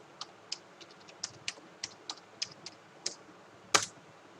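Commands typed on a computer keyboard: about a dozen quick, crisp key clicks in an uneven rhythm, close and quiet, ending with a louder, firmer keystroke like an Enter press.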